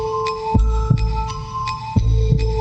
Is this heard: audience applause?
no